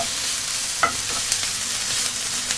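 Bacon sizzling and frying in a pan, a steady bright hiss with occasional soft stirring scrapes and small pops close by.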